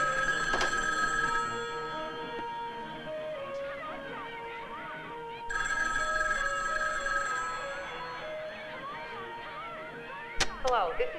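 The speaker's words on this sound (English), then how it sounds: "Now don't answer the phone because it'll do that all by itself." A telephone rings in a movie scene, two long bursts of bell ringing separated by a brief dip, followed by a few sharp clicks near the end; fairly close and moderately loud.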